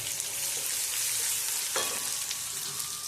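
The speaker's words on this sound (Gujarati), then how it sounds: "હવે આપણે એની અંદર થોડીક લસણની અલગથી પેસ્ટ નાખીશું।" Garlic paste fries in hot oil for a Gujarati okra dish, producing an even, close sizzle with one brief metallic clink of a utensil midway and no voices.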